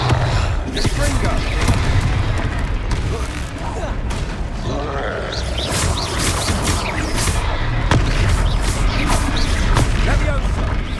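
Confringo blast spells and battle crashes fill a Hogwarts Legacy fight, with repeated loud impacts and bursts over a constant busy game-combat din.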